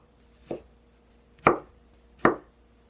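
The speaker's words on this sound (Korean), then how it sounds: "찐 브로콜리는 먹기 좋은 크기로 자르세요" Three separate knife strokes cut through steamed broccoli on a cutting board, each a sharp, close thunk spaced about a second apart in an otherwise quiet kitchen.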